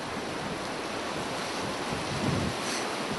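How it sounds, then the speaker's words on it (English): Strong wind around 30 mph, gusting to 40, on a Kansas whitetail hunt roars as a continuous broad rush with buffeting on the microphone, swelling slightly near the end. "We got like 30-mile-an-hour winds, gusting like 40."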